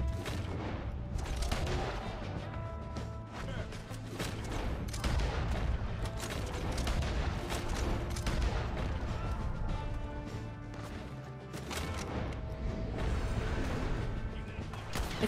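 Repeated bolt action rifle gunshots in Red Dead Redemption 2, loud sharp cracks fired in quick succession with rumbling echoes and crashing impacts, continuing throughout.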